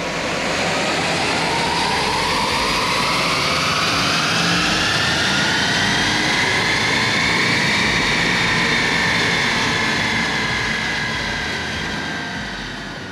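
A stock Jaguar XF-S twin turbo diesel engine on a dyno, running loud and steady with a rising, sustained roar and whine throughout, easing off slightly at the end.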